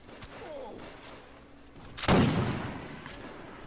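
A bomb explosion in the Warsword Conquest video game: one loud, heavy blast bursts out after faint battle noise and then decays into a rumbling tail.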